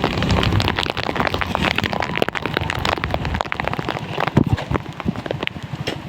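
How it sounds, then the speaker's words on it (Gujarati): Steady, heavy rain pours down in Alang, Gujarat, a dense hiss with scattered louder drops splattering on nearby surfaces throughout. "વરસાદ તો તમે જોઈ શકતા છો"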